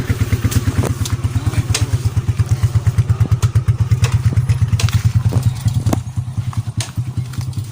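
Motorcycle engine running close by with a rapid, steady thumping putter, with scattered clunks and knocks over it as firewood is loaded onto the bike, and no talking.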